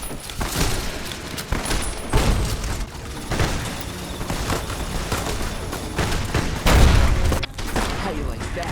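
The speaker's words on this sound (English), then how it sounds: "I'm just going to start lobbing grenades at them all" Grenades burst in a Fallout New Vegas gunfight, a dense run of thuds, booms and crackling hits over a constant busy game mix, with one heavier blast near the end.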